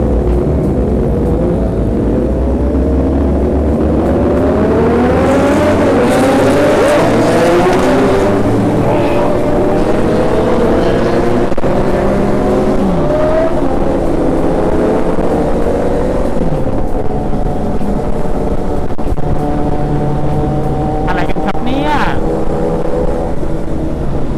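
Several big bike motorcycles pull away together, loud overlapping engines climbing in pitch through the gears and growing rougher, with a voice briefly heard over the roar.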